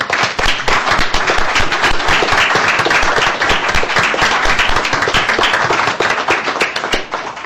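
Loud, dense clapping from a school board meeting audience honoring retiring staff, sustained and even throughout with crisp individual hand claps close to the microphone.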